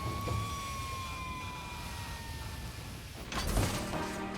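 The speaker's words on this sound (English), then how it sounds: "the Grizzly Pumper Rescue Fire Engine can bring the fight to the fire." A Grizzly Pumper Rescue Fire Engine's siren wails steadily as a long, slowly falling tone over a rumbling engine and road noise, and a louder rush of traffic swells near the end.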